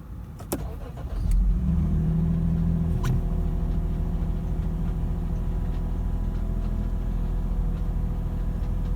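A Lexus IS250's new engine cranks briefly, catches, and settles into a steady, loud running rumble that continues close by.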